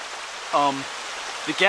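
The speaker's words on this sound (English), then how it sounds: "Just made our way across the creek. Got some little cascades up there and stuff." A creek with small cascades flows steadily in a Pennsylvania mountain gap, a broad even rush of water close by, with brief voiced sounds rising over it.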